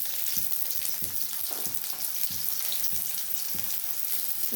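Chopped onion and garlic sizzle steadily in a pan while prawns and red amaranth greens are being fried, a loud continuous hiss broken by regular scraping stirs roughly every half second, with no talking.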